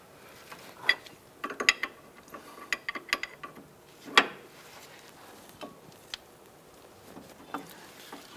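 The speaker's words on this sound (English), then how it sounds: "I'm going to go ahead and tighten down our jam nut." A ratchet tightening the jam nut on a Ford Escape tie rod during a steering rack bellow replacement: quiet, irregular bursts of clicking pawl, a few sharp metallic clicks, close up with no talking.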